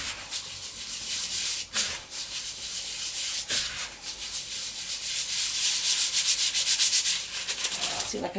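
Bath bomb mixture for galaxy-style bath bombs rubbed between the palms, a steady dry scraping hiss close up with a few brief pauses, growing slightly louder toward the end, no voices.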